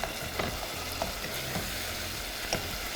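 An onion and tomato masala fries in a pan with a steady, moderate sizzle, punctuated by several soft stirring scrapes and clicks spaced through the short stretch.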